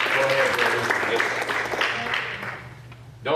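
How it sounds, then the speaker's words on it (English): Church congregation at a Wednesday evening service claps hands in praise, a loud sustained round of applause that thins toward the end, with voices calling out over it. "Would you give him a hand clap of praise?"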